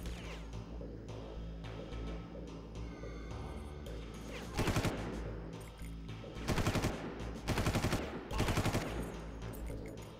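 Gunfire in Far Cry: several loud bursts of rapid automatic fire in clustered volleys, spaced a second or two apart over a background of game music and ambience.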